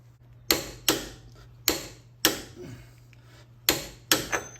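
A wheel bearing axle nut on a 2004 Oldsmobile Alero front wheel being torqued with a wrench: six sharp, loud metallic bursts at uneven intervals, each decaying quickly, close up over a steady low hum, with no voices.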